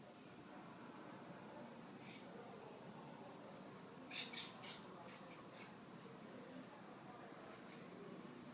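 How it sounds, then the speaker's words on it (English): Several parrots in a backyard flock squawk in short bursts around the middle, faint and somewhat distant over steady outdoor background noise. "That's my flock of parrots."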